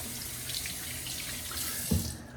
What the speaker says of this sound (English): let me go ahead and set this brush down and rinse off my hands